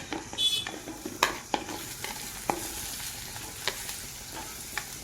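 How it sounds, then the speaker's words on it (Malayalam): Pink okra sautés in a spoonful of coconut oil with a steady sizzle, punctuated by sharp spatula taps and scrapes against the pan at irregular intervals. "ഒരു സ്പൂൺ വെളിച്ചെണ്ണ ഒഴിച്ചൊന്ന് വഴറ്റിയെടുക്കാം"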